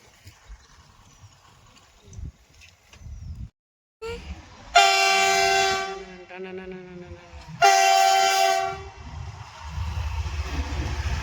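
A train sounds two long, loud horn blasts at a closed railway crossing near Dighaliya village, each lasting a few seconds with a short gap between them, followed by the rumble of the passing train.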